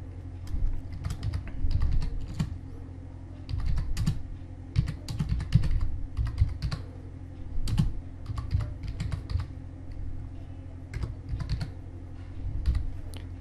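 Typing on a computer keyboard while laying out a page in desktop publishing software: close, irregular bursts of crisp keystrokes with short pauses between them, heard alone with no talking.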